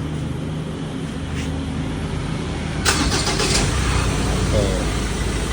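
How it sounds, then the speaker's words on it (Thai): A Ford XLT pickup's engine cranks and catches partway through, then settles into a steady idle beneath a continuous background hum, heard from close by. "สตาร์ทรถเลย"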